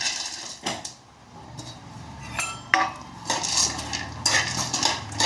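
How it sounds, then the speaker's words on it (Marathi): Peanuts are tipped into a heated pan, making bursts of hard rattling clatter as they hit the metal, with short pauses between pours. "याच्यात हे केलेले शेंगदाणे आहेत ना हे सगळे टाकून घ्यायचे याच्यामध्ये"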